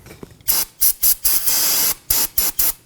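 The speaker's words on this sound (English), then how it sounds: "We're going to wipe down the area using some brake cleaner and a rag" Brake cleaner sprays onto a 2020-2027 Toyota Corolla front hub area in a series of loud, close hissing bursts, one longer blast among several short squirts.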